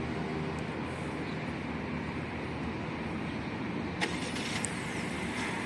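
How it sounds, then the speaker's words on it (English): A 2023 Honda Civic 1.5L RS, started by remote start, idles with a steady low rumble throughout, with a faint click and beep partway through. "after some seconds, the car will actually start itself"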